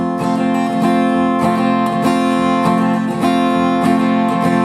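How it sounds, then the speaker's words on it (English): Loud acoustic guitar strumming a down, down, up, down pattern for a song, even chord strokes repeating continuously with no voice over them. "And that strum pattern would sound like this: down, down, up, down,"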